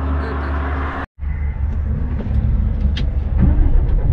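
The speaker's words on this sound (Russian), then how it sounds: "Машины эти шумят." Roadside traffic on a highway shoulder, with a loud continuous rumble of passing cars and heavier vehicles swelling and fading close by, broken only by a brief cut.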